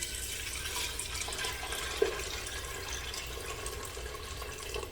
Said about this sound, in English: We're going to cover it with some water.